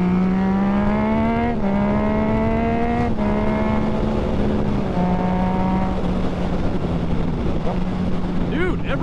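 A Yamaha FZ-09 motorcycle fitted with a 15-tooth sprocket accelerates hard through the gears, its engine note climbing, dropping at each shift and climbing again, loud and close with heavy wind rush over the microphone.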